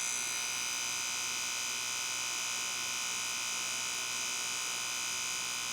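A tattoo machine runs steadily while fingerprints are tattooed with a small needle configuration, a constant close electric buzz with a bright high whine and no pauses or speech.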